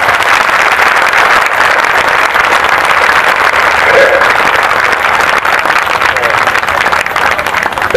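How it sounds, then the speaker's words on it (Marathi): An audience at a tribute gathering in a Buddhist vihara in Powai, Mumbai claps loudly and continuously, a dense, sustained roar of applause filling the whole stretch. "सर्वांनी एकदा जोरदार टाळ्या वाजवायच्या आहेत."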